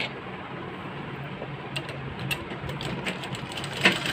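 A sewing machine runs steadily as it stitches a folded kurti sleeve, with a continuous close mechanical whir and a few sharper clicks near the end, with no voices.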